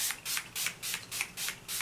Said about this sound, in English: So I'm using the All Nighter honey spray.